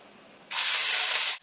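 Ginger paste and a pinch of turmeric hit hot oil in a pan for a Bengali eggplant and puti fish dish. They give a sudden loud sizzling hiss that lasts just under a second and then cuts off sharply.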